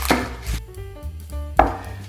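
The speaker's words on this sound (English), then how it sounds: "Chop it up the best you can, but if it's in crude chunks, that won't make a difference." Garlic being chopped with a knife on a board, a few sharp, close knocks spaced irregularly with quiet gaps between, no speech.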